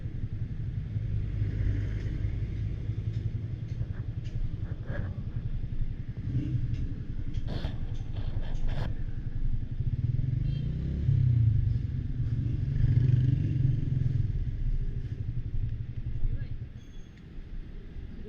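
A motorbike rides along a road toward Sharda in Kashmir, its engine giving a steady low rumble throughout, with people talking over it.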